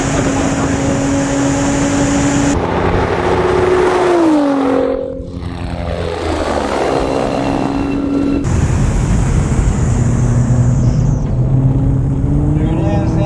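A 750 hp Nissan GT-R accelerates hard at high speed, its engine note climbing steadily through the gears with a loud continuous roar and wind rush, one gear shift dipping the pitch midway.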